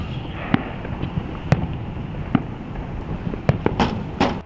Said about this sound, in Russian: Завершился грандиозный бойцовский вечер Гран-при Ахмат красочным салютом в небе над Грозным.